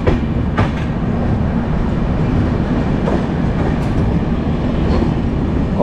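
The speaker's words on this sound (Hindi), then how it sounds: "और फिलहाल ट्रेन हमारी नागपुर जंक्शन" A Duronto Express pulls into Nagpur Junction, heard from on board as a steady, loud carriage rumble with a few faint clicks over rail joints throughout, and no voices.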